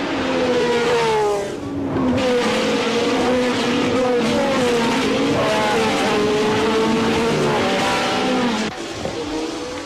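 Formula 1 cars from the 1970s race at the British Grand Prix at Brands Hatch, engines screaming and shifting pitch as they pass by, loud and continuous with brief dips between cars.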